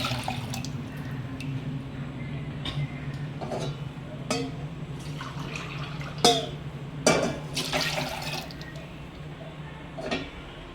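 Milk pours and drips into a pan over a steady background hum, punctuated by several clinks and splashes of varying loudness.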